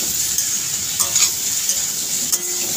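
Vegetables with turmeric and tomato stirred while frying in a pan, a steady loud sizzle with a few soft spatula scrapes and taps breaking through.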